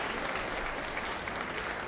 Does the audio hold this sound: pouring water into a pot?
no